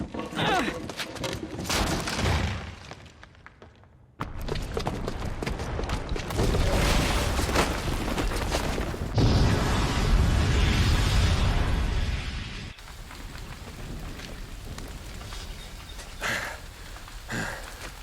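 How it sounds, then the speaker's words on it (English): A booby-trapped bomb goes off in Horizon Zero Dawn Remastered, bursting into a long, loud roar of blasts and crackling debris, with several swells and sharp pops that fade into a lower rumble. "the booby trap on the bomb downstairs is gonna get set off"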